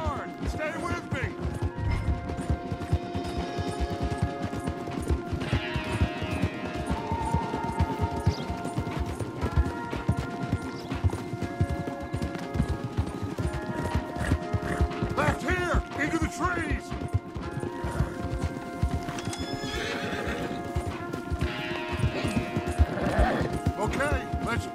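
Horses galloping hard in the video game Red Dead Redemption 2, a continuous drumming of hoofbeats throughout the ride, with occasional whinnies and riders talking over music.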